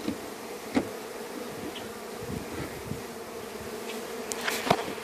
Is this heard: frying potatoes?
no